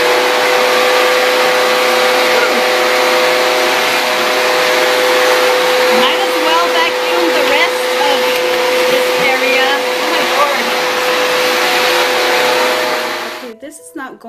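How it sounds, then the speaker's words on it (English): A vacuum cleaner roars continuously and loudly up close with a steady whining hum, shifting slightly as it moves, then cuts off at the end. "I'm gonna go ahead and use my vacuum."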